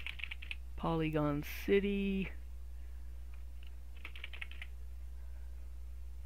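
Computer keyboard keys clicked in a short burst of quick typing, near and fairly quiet, with someone speaking briefly before and after over a low steady hum.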